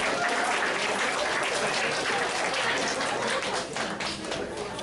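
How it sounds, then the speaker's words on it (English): Audience applause at a poetry reading, dense, loud clapping from a crowd sustained throughout, without talk over it. "I want us to give another round of applause to Justin Cabrillo, to Che Chen, to Talis Le"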